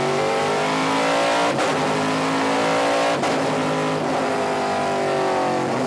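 A car engine revs hard and loud while climbing a hill road on a drive, a sustained roaring drone with a couple of brief shifts in pitch, heard from inside the car.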